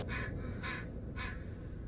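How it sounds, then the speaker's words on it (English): A single crow in the Blair Witch video game, set in a misty forest, caws three times in an even rhythm, faint and distant over a low, steady rumbling ambience. "The sound design is now just a single chirping crow."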